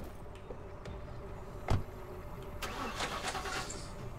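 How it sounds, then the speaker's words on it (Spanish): A car engine in the zombie survival game The Last Stand: Aftermath strains and sputters as it breaks down, with a loud knock partway through followed by rough mechanical rattling over a continuous engine drone. "eso es que se está rompiendo el coche"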